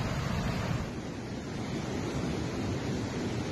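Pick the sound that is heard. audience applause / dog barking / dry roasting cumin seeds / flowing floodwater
flowing floodwater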